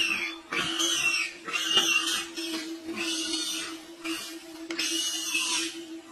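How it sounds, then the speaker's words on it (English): A pig squeals repeatedly as a leopard seizes it, loud bursts of distressed cries coming in rapid succession over a steady background hum, with no talking. "Leopard grabs the pig."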